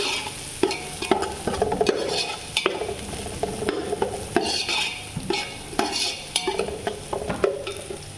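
Browned onions frying in oil with ginger-garlic paste, stirred with a metal utensil that scrapes and clinks against the pan in repeated strokes over a steady close sizzle.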